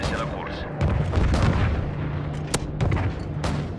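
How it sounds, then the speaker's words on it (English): Heavy booming cannon fire from an AC-130 gunship overhead in Call of Duty: Modern Warfare 3, deep thuds and sharp cracks mixed with other gunfire and a voice talking over the din. "Friendly AC-130 in the air."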